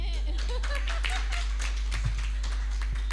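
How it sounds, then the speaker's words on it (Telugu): A church congregation claps in a fast, steady rhythm of sharp, dense hand claps with a low hum underneath, with no voices over it. "చప్పట్లు కొట్టండి"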